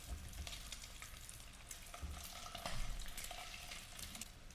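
Eggs fry in a pan until browned red, giving a fairly quiet, continuous sizzle with crackling and stirring scrapes, close by and with no voices.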